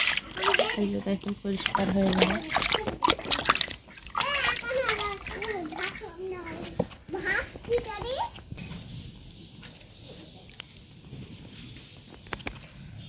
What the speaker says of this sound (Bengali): এই যে পানি দিয়ে ধুয়ে নিলাম